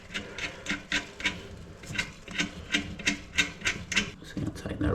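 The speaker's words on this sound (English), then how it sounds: "Get it all hand tightened first, and then we can use our wrench." A wrench tightens a nut on a toilet flange repair ring over a tile floor, making a regular series of short ratcheting clicks and scrapes in quick rhythmic bursts, close and moderately loud.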